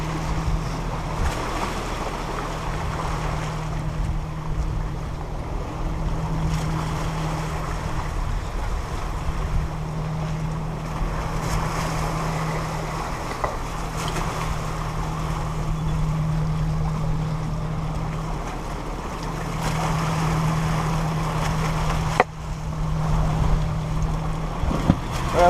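A sailboat runs under a jib held out on a whisker pole at about 6 knots on the open ocean from Mexico toward Hawaii, with steady wash of waves against the hull, wind buffeting, and a low continuous rumble throughout.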